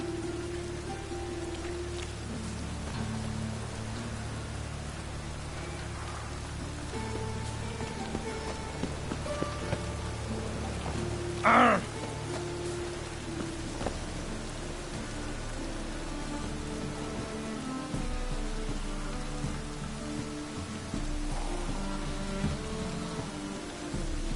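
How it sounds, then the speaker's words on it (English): Rain falling in a PS4 video game, a steady hiss of drops on surfaces that runs the whole time at a soft, even level, with one brief sharp sound partway through and no talk. "Looks like rain."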